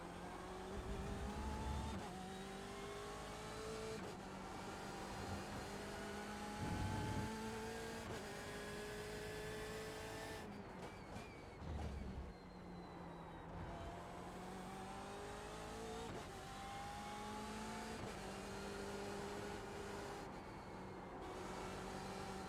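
A BMW M8 GTE race car lapping Road America in the iRacing sim, its engine screaming in repeated rising revs with sharp drops at each gearshift and braking zone, loud and continuous with no talking.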